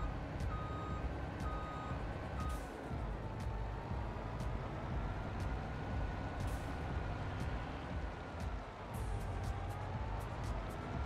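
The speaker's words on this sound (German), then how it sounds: "Ab in den LKW." Reversing beeps from a truck in Farming Simulator 22, steady evenly spaced tones sounding repeatedly over a constant engine rumble and machinery noise, with occasional brief clicks.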